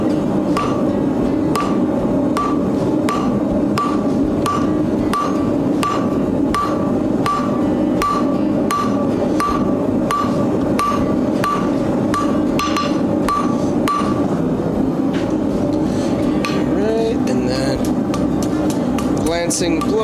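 Hammer blows on hot metal while tapering the ends of a hand-forged cloak pin, a loud, steady, rhythmic ringing strike about twice per second, becoming less regular and mixed with other shop noises near the end.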